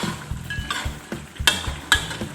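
Someone stirs a fish stir-fry with torn herb leaves in a pan, and a soft, steady sizzle sits under repeated scraping and clanking strokes of utensil against metal, heard up close with no talking.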